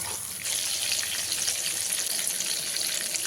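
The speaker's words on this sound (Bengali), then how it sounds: "বেগুনগুলোকে খুব ভালো করে ভেজে নিয়েছি" Eggplant pieces frying in hot oil, a dense, steady crackling sizzle that carries on throughout at close range with no voices.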